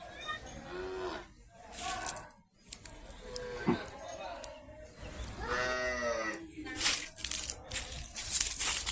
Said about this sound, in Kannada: ಗೋವಿಗೆ ಹುಲ್ಲು ತಿನ್ನಿಸುತ್ತಿದ್ದಾರೆ.